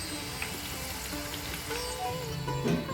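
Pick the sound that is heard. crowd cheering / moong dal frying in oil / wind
moong dal frying in oil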